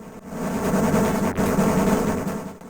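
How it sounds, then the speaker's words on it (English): Rapid arcade gunfire from the shooter Blood Bros., a dense, loud stream of punchy shots with a brief dip midway, sounding alone without voices. "punchy gunfire sounds, satisfying dynamite booms"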